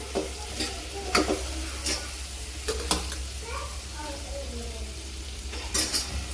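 Boiled drumsticks are stirred into a sizzling Marathi tempering for a rasa bhaji, a steady frying hiss broken by sharp spoon knocks and scrapes against the pan.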